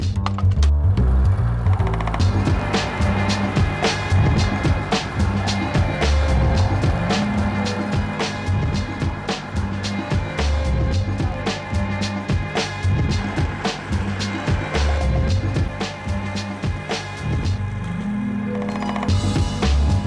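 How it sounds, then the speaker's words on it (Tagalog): Rail trolleys roll along train tracks in Pandacan, Manila, a loud, close, continuous rattling clatter of small wheels over rail joints that goes on for about twenty seconds without talk. "Pagdaan ng tren, mga trolley naman ang naghahari."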